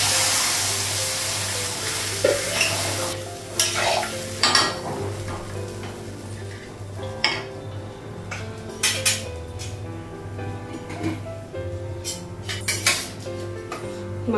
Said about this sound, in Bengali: মশলাটা একটু কষে নিল, তারপর হলুদ হলুদ জল লাগিয়ে দিই।